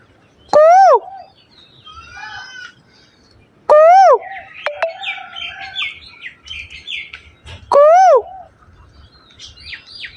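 A bird answers a person with three loud, repeated rising-falling calls spaced a few seconds apart, with fainter chirps and twittering in between, heard close in an outdoor setting.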